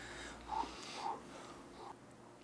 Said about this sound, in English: I can see him breathing.